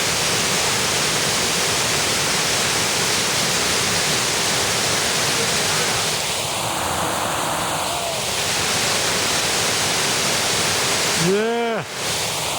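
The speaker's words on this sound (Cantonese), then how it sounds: "跟住呢條瀑布" A waterfall at Huangyao ancient town gives a steady, loud, close rushing roar that runs unbroken throughout, with a brief voice rising near the end.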